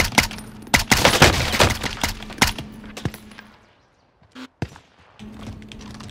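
Gunfire in Call of Duty Cold War Warzone rings out in sharp bursts of rapid shots with a few isolated single cracks, loud at first, then sparse after a brief silence, over a faint game background hum.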